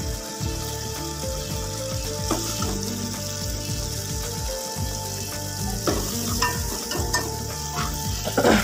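Masala frying in a pan for zafarani kofte, a steady dense sizzle with repeated scraping stirs of a spoon against the pan, close and loud throughout with no talking.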